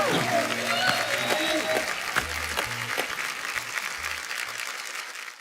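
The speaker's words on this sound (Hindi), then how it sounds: "जोरदार तालियां एक बार सबके लिए" A studio audience at a Hindi comedy talk show applauds the guests with loud, sustained clapping that tapers off toward the end, with music and voices underneath.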